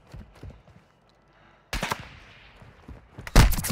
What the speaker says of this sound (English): Oh shit, he just sniped me